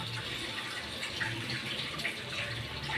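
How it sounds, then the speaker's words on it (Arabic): Homemade sugar syrup for Alexandrian basbousa, made from sugar and water, is poured over the cake. It makes a soft, steady trickle and splash that stays faint and continuous, with no voices. "هتحطي كميه الشربات كلها"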